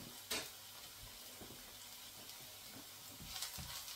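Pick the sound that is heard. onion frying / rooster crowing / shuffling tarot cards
onion frying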